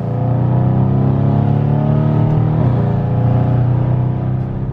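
A tuned Mercedes-AMG C63 fitted with downpipes pulls away, its engine droning loud and close with a steady deep exhaust note and a brief shift in pitch partway through.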